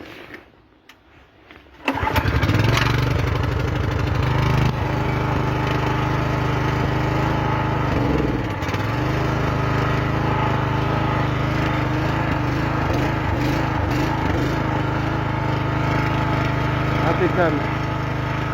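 A gasoline saw engine catches after a quiet start and settles into a loud, steady, buzzing run that continues unbroken to the end, recorded close by during chalet construction work.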